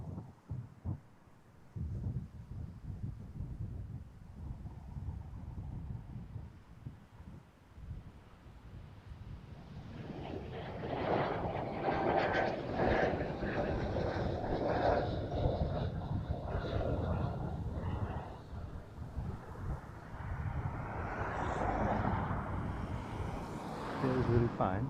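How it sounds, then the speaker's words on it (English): Jet airliner taking off at Amsterdam Schiphol Airport, heard from outdoors as a broad, rising roar that swells after a quieter start and holds steady and loud, with wind buffeting the microphone throughout. "Let's see how steep this takeoff is."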